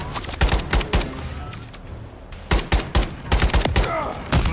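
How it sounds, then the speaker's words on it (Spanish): Gunfire in Modern Warfare 3 during a fight near a cargo ship, loud rapid clusters of shots in two heavy bursts separated by a brief quieter gap. "Nos están disparando desde el buque de carga"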